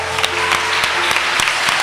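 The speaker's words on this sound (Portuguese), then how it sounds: "Você pode aplaudir ao Senhor." A church congregation applauds together during a worship service, a steady, dense wash of clapping that fills the whole moment, with no one speaking over it.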